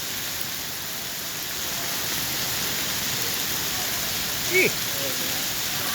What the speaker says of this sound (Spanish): un aguacero